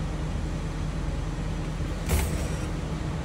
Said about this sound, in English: I'm going to press my service brake, release my parking brake